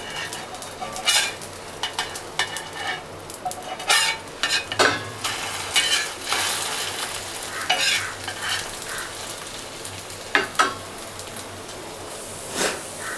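A potato omelette with onion sizzles steadily in a pan as it is flipped, with a scatter of scraping and tapping clicks over the constant frying hiss.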